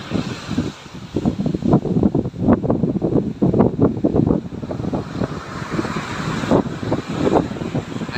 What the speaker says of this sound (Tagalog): sobrang malakas yung hangin.